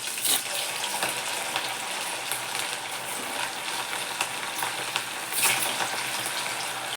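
Medu vada frying in hot oil, a steady crackling sizzle with occasional sharper pops, continuous and fairly close, with no voices.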